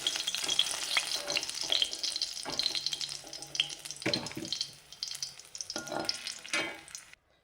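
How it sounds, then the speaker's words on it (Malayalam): Shallots sizzle and crackle in hot oil close by, with intermittent clinks and scraping as they are stirred, fading out at the end. "ചുവന്നുള്ളി പിന്നെ ഉള്ളി വറുത്തെടുത്തു ഇനി അത് കോരി മാറ്റാം"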